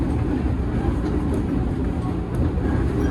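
Kertajaya passenger train at Pasar Senen station: a steady, loud rumbling roar of rolling rail cars fills the whole span, with faint rhythmic clatter beneath and no pauses.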